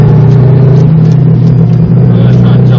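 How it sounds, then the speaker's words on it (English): A car engine at a Brisbane Powerplay event revs hard and continuously, a loud close rumbling drone that holds steady throughout, with people talking nearby. "I'm just revving your car right out, that's all"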